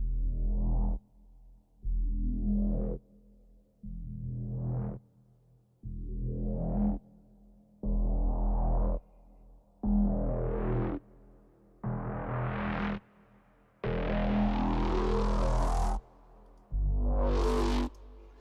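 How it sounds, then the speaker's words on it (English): A distorted synth plays nine sustained notes, each opening up into a bright filtered sweep with a swirling phaser tone, separated by short gaps. "So you can hear it's just kind of a cool little synth instrument."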